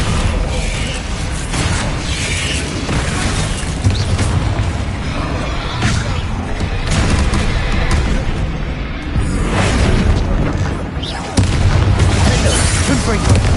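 Spell blasts and explosions from combat in Hogwarts Legacy come in a dense, continuous barrage of loud booms and crackling impacts. A voice keeps shouting spell incantations over the constant din.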